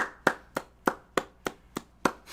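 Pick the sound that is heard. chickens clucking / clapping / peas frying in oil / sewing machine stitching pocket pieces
clapping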